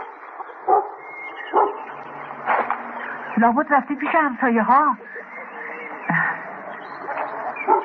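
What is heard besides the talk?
dog barking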